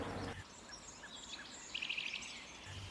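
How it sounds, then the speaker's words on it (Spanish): Eurasian blue tit singing in wooded habitat: a short, fairly faint high-pitched trill of rapid repeated notes near the end, with a few thin calls before it over quiet background. "Herrerillo común."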